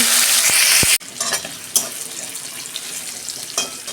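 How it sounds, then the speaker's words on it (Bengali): Asafoetida and onion hit the hot pan with a loud burst of sizzling, followed after a sharp cut by quieter frying with scattered clinks and stirring scrapes, heard up close without speech. "এই যে আমি অল্প হিং দিচ্ছি, অল্প পেঁয়াজ দিচ্ছি"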